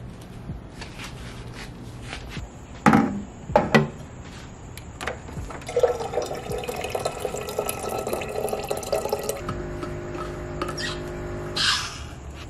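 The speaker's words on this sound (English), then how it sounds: "Such a vital thing is filling up my water bottle before I go to bed" Water runs from a tap into a water bottle during a night routine in a college setting. It is a continuous splashing trickle for several seconds, preceded by a few clattering knocks and handling noises nearby.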